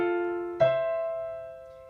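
Right-hand piano dyads from a theme ring out, one sustained two-note chord giving way to a second, brighter one, each struck clearly and left to decay alone.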